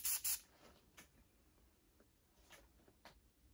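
Two quick, sharp hisses of an aerosol spray burst out at the start, followed by faint scattered clicks and handling noises in a quiet room.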